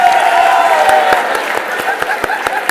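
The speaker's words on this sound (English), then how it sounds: "Can we have a huge round of applause for him?" Audience at a hospitality convention applauds a chef being introduced, a steady wash of clapping with a few sharp individual claps and some crowd murmur, fairly close and lasting the whole moment.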